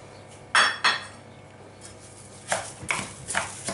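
A utensil stirring rice with tomato sofrito in a pan, giving sharp scraping and clinking strikes against the metal in short separated bursts, close and fairly quiet.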